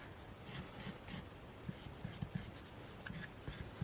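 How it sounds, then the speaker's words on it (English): A pottery scoring tool scratching crisscross lines into clay, a faint, close run of short dry rasping strokes in an irregular rhythm. "I'm going to use my scoring tool to take away some, if I feel like it's needed"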